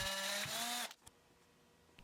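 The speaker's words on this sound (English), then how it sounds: "take the lid and drill a 1/4 inch hole in it" A power drill bores a 1/4 inch hole through a flat plastic bottle lid, whining loudly and steadily for just under a second before stopping abruptly, followed by faint handling clicks.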